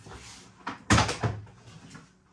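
The door of a Krups The Sub compact beer dispenser is pushed shut up close, a soft rustle followed by a solid plastic thud and a lighter click just after.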